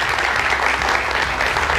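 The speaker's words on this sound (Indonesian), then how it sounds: "Kita boleh tepuk tangan." Studio audience applause on an Indonesian television talk show, a loud, thick, continuous roar of many people clapping close by, with no talk over it.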